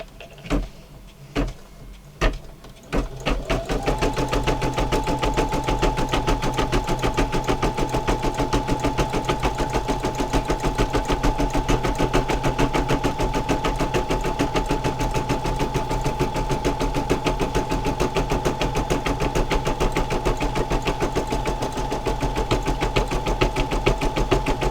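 An embroidery machine stitches a Valentine earring design, starting with a few separate clicks before settling into a steady, fast, mechanical whirring hum with a rapid rhythmic stitching chatter that continues evenly, without any talking.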